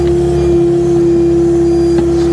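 Excavator fitted with a Rototilt R3 tiltrotator running loud and close, a constant heavy hydraulic and engine hum with a strong steady whine while the bucket is moved, faint clunks now and then.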